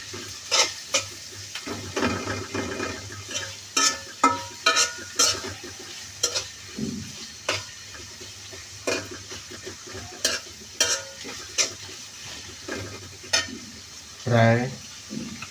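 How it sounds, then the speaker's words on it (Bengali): Food frying in a pan for about twenty minutes gives a steady close sizzle, broken by repeated sharp clanks and scrapes of a utensil stirring against the pan. "এখন এগুলো 20 মিনিটের মতন ভেজে নেব।"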